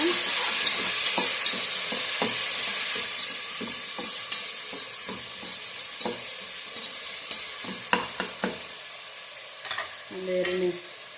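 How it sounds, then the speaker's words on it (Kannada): Chopped tomato frying for avarekalu pulao, a close steady sizzle broken by repeated spoon stirs and scrapes against the pan, with sharper clatters near the end. "ಟೊಮೊಟೊ ಹಾಕ್ಕೊತಾ ಇದ್ದೀನಿ. ಫ್ರೈ ಮಾಡ್ಕೊಬೇಕು."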